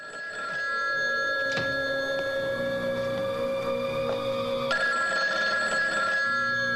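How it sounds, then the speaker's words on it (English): A telephone bell rings steadily and loudly in an indoor setting, with a bright sustained ringing tone that shifts pitch partway through and carries on without any talk. "I think it's a phone."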